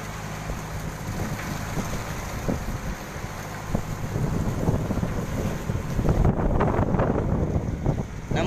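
Strong wind buffets the microphone, a loud continuous roar with gusty rumbles that swell toward the end, heard alone.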